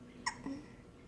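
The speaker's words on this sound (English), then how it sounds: "I love your hiccups, even though I know you don't like them." A small child hiccups once, a sharp, quiet catch of breath followed by a short voiced squeak against soft background hiss.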